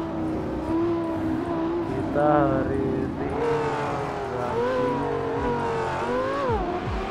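A Suzuki Jimny engine revs in GTA 5 roleplay, rising and falling tones sweeping up and down under someone speaking over it.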